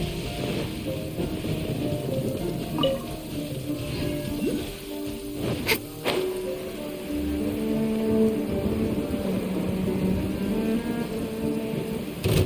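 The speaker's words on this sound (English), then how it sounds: "Thunder and lightning can be quite frightening" Thunder and rain in the video game Genshin Impact, a steady wash of rain with a couple of sharp cracks and rumbles near the middle, over a constant low background.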